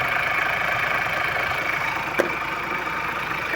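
A 2021 Ford Ranger Raptor engine idles roughly and shakes on its first start, giving a steady, close, mid-pitched rumble with a faint rhythmic knock and one brief tick.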